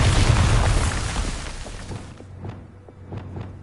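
A Bombarda blasting spell explodes in Hogwarts Legacy, a loud booming burst with a rushing rumble that fades over a couple of seconds into quieter scattered pops and thuds.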